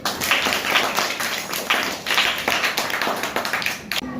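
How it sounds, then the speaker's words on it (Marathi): A group of schoolchildren claps for a classmate's birthday in a school, producing a fairly rhythmic, close, steady run of hand claps that stops abruptly near the end. "सगळ्यांनी टाळ्या वाजवाव्यात"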